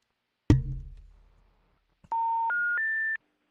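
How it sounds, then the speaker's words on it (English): A telephone number is dialed: a sharp clack of the handset, a pause, then three clear touch-tone DTMF beeps in quick succession, close and loud. "I'm dialing these damn phone numbers"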